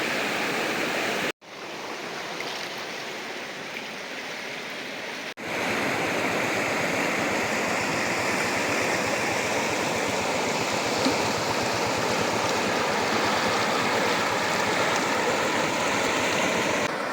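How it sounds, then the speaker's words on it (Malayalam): Stream water flowing over rocks at Meenthullippara, a steady, full rushing wash that stays loud and close throughout, briefly cut out twice near the start before settling into an unbroken roar. "വെള്ളത്തിൻ്റെ ഒഴുക്കിൻ്റെ ശബ്ദം മാത്രം കേട്ടുകൊണ്ട് കുറച്ചു നേരം ഇവിടെ ഇരുന്നാൽ"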